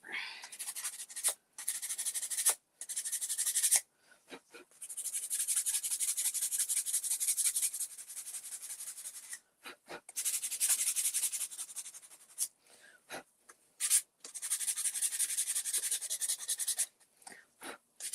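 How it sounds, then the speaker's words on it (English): Hand sanding with sandpaper: bursts of brisk, rhythmic scratchy rubbing, close up, separated by short pauses and a few taps. "I'm just going to lightly sand off what I don't like."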